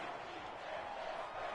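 Stadium crowd noise from the Madden 21 American football video game, a dense, continuous roar of cheering fans during a Patriots game, steady and fairly faint throughout the short stretch.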